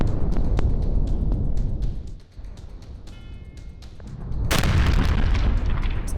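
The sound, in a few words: gas tanker explosion after road crash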